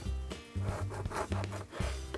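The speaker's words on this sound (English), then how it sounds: "So I'm just gonna cut kind of thick slices." Knife sawing thick slices through a crusty artisan loaf: repeated rough rasping strokes in an uneven back-and-forth rhythm, close and moderately loud.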